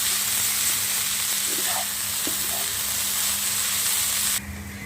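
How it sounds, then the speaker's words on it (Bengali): Steady sizzling of a vegetable and spice filling frying in a pan for a semolina snack, a continuous loud hiss with light stirring scrapes, dropping off sharply near the end. "এখন আমি মশলাগুলি সবজির সাথে ভালো করে মিশিয়ে ভাজা ভাজা করে একটা পুর তৈরি করে নিব"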